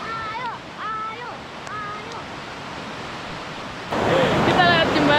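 Water of a jungle river flows near a bamboo bridge on a camping trek, a steady rushing wash that swells louder and brighter toward the end, with birds chirping over it and no talk.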